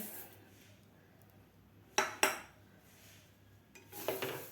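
Dry moong dal clatters into a heavy metal pan in two quick bursts, then a longer rattling pour, with quiet gaps between.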